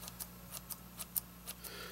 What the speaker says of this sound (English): just take it, hold it in your hand, and just cut it in little pieces